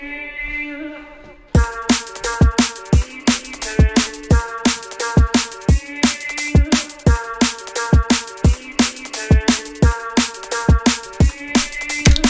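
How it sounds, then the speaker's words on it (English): Chopped vocal stabs from an FL Studio drum and bass track begin alone, then sharp, fast drum hits kick in beneath them, driving a loud, steady rhythmic groove to the end. "And that plays when the drop comes with the drums"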